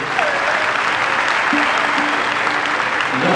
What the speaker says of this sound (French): Applaudissements pour Pierre s'il vous plaît.